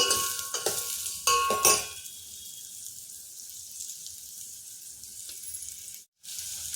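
Soaked and drained rice being stirred and roasted in a pan, with a few sharp scraping stirs and bursts at the start, then a quiet, steady light sizzle that fades briefly near the end.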